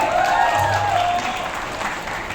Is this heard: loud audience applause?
yes